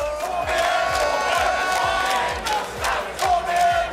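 Swedish supporters at the Bocuse d'Or cooking competition in Europe cheer loudly and chant in unison, their voices rising in repeated rhythmic bursts with steady clapping or stamping beneath, close and sustained throughout.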